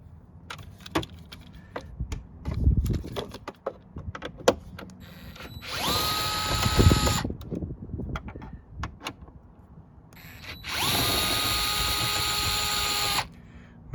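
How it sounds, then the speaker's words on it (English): A DeWalt power screwdriver whirs in two sustained bursts, about seven and three seconds long, while backing out tight 7 mm screws from a car's dash bezel. Clicks and handling clatter surround the bursts, heard up close with no talking. "This little screwdriver has been one of my favorite purchases."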